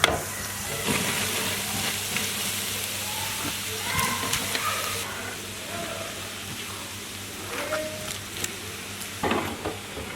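Ingredients for mutton keema fried rice roast in oil with a soft, continuous sizzle. Scattered scraping and stirring knocks sound over it, and a faint voice comes through now and then.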